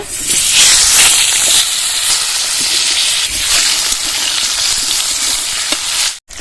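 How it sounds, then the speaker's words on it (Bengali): Potato pieces deep-frying in leftover fish oil for a Bengali rohu curry give a loud, steady close-up sizzle and hiss that runs throughout, ending in a brief drop near the close. "এই মাছের তেলে আমি আলুগুলো ভেজে নেব"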